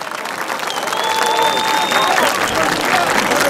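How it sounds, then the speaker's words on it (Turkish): A festival crowd applauds a band at an outdoor cultural festival, a steady, dense wash of clapping and crowd noise that swells after the first second and holds, with a faint whistle or tone above it. "Bence güçlü, kocaman bir alkışı hak ediyorlar."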